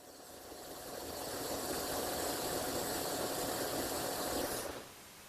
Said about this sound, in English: So that's going to be the full misting power on speed 1.